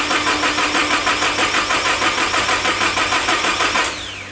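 Toyota 1JZ engine in a Chaser cranking over on the starter to build oil pressure without firing, a rapid rhythmic chugging close by that stops abruptly near the end.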